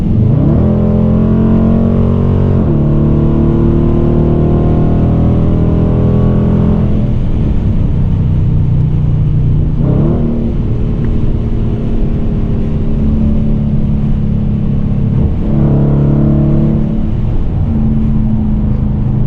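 Dodge Challenger R/T fitted with a Z-Taser, its engine pulling hard and revving in loud, sustained waves with rising pitch sweeps and a few gear-change dips, heard from inside the car without talk.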